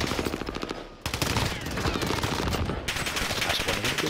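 Video game gunfire hits the player from behind in rapid automatic bursts, loud and close, with a short gap before the shooting resumes and continues steadily to the end.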